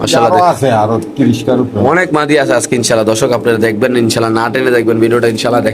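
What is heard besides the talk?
No everyday noise stands out behind the speech.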